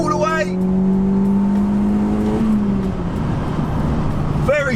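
A stage 2 Audi S3 quattro pulls away from a standstill, its engine note climbing steadily and loud through the gears as people talk over it in the cabin.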